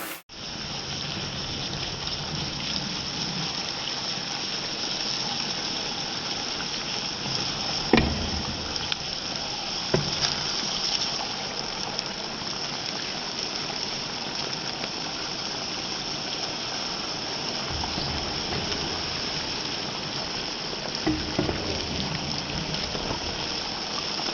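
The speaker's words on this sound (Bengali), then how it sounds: "এটা হচ্ছে বাটন মাশরুম, তার সাথে আমি ক্যাপসিকাম দুটোকে হালকা করে ফ্রাই করে নিচ্ছি" Button mushrooms and capsicum fry lightly in oil in a pan, giving a steady, even sizzle like light rain that runs unbroken for over twenty seconds, with a few faint clinks along the way.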